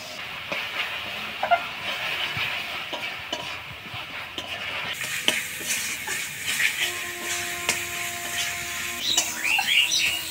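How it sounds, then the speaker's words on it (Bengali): Spices sautéed in a pan for a chickpea and potato curry, a continuous hissing sizzle with scattered scraping and tapping of a spoon against the pan, steady and close throughout. "সব মশলা দিয়ে ভালো করে কষাই নিলাম।"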